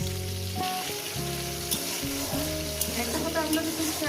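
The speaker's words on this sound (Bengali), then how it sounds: "আলুটা খুব সুন্দর করে লাল লাল করে ভেজে নেবো তেলের মধ্যে" Potatoes fry in hot oil with turmeric and salt in a pan, making a loud, steady sizzle up close. A stepping tonal melody plays over the frying throughout.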